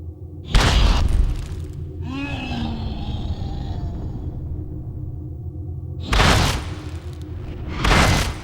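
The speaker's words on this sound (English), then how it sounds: "Watch this action, and boom, down he goes." Heavy booming thuds hit twice at the start and end as a boxer is knocked down onto the canvas in Fight Night Round 2, with a swooshing effect and a voice in between.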